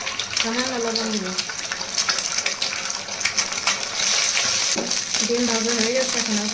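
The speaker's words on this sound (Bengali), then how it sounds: "আমি 2টা ডিম ঝুরি ঝুরি করে ভেজে নেব" Two eggs with a little salt scrambled and fried in a pan for fried rice give off a steady crackling sizzle, broken by spatula stirring and scraping, while a person talks over the cooking.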